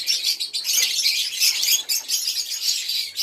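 Dense, continuous high-pitched chirping and twittering of lovebirds, steady and fairly close, with no voices.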